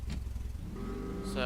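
A single cab pickup truck engine pulls away in second gear, a low hum that builds and rises in pitch toward the end while someone talks over it.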